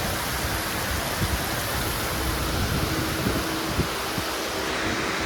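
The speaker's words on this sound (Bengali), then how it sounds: "বন্ধুরা এত পরিমাণে বৃষ্টি হচ্ছে একবার দেখেন আপনারা" Heavy rain pours during an evening train journey from Malda, making a dense, unbroken hiss that fills the whole clip at an even, fairly loud level, with faint low rumbles beneath.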